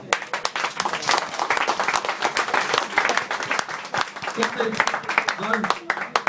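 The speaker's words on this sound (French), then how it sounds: "Bravo, on les applaudit." Sustained applause from a studio crowd and production staff on a French television news set, many hands clapping loudly and continuously, with a few voices mixed in.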